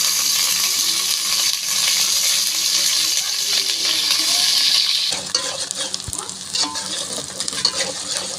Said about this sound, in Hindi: घी हमारा गर्म हो चुका है तो इस टाइम मैं इसमें ऐड कर दूंगी जो मैंने प्याज चॉप किए हुए थे